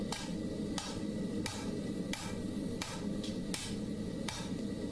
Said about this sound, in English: you're going to see every hammer strike